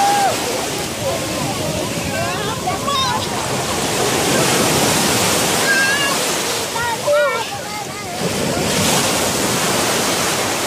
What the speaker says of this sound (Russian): Эта волна идет,